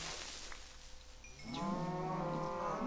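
A cow in the video game Minecraft gives a single long, low moo halfway through, after a quieter stretch of background ambience.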